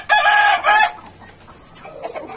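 Hens on a small home farm give a loud burst of clucking and squawking in two quick bouts close by, then quieter clucks trail off in the background.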